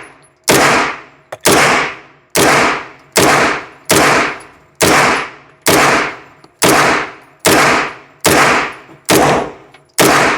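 Ten loud, evenly spaced single shots from a Military Armament Corporation Mac 5 gun, each a sharp close report with a short decaying tail, fired about one per second with no talk.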